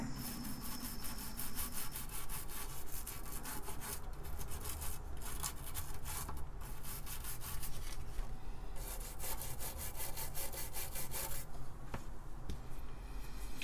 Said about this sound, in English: Then I'll give it a little scrub.